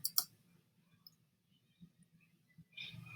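A couple of soft, close computer mouse clicks tick at the start, followed by near silence with faint low hum and a brief rustle at the end.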